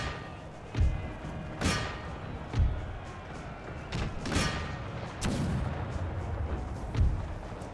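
Cannon artillery fire rings out in an Empire 2 battle fought by the Polish-Lithuanian Commonwealth: around seven heavy booms land at irregular intervals over a constant rumbling din of gunfire and combat.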